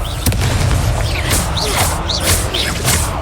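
A loud Confringo fire spell blast from Hogwarts Legacy booms with crackling, whooshing impacts during a dueling match, set against a continuous noisy battle backdrop.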